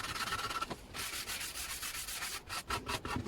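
A nail file rubs back and forth along the edges of a wooden sign in quick, close, raspy strokes with short gaps between passes.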